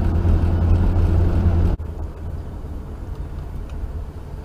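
Low, steady engine rumble of a 1955 Ford Fairlane with Borg Warner overdrive cruising, heavy at first, then abruptly dropping to a quieter drone as it shifts or lifts off.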